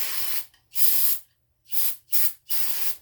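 Aerosol brake cleaner sprayed onto a go-kart's two-disc Bully clutch in four distinct bursts of hissing spray, close and loud, with short silent gaps between them.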